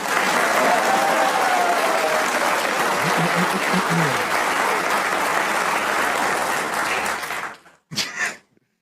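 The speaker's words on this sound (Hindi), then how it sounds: "एक बार बेटा तालियां बजा कर।" A crowd claps loudly and continuously at an India versus Pakistan cricket discussion, the sustained applause with a few cheers cutting off abruptly near the end, followed by a brief burst of voices.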